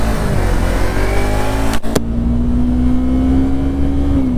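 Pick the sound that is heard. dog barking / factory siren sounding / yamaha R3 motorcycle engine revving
yamaha R3 motorcycle engine revving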